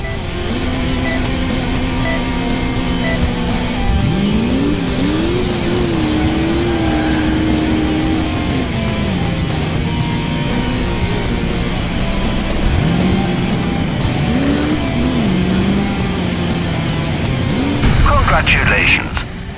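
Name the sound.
car chasing remote-controlled vehicle in Crash Time 2 video game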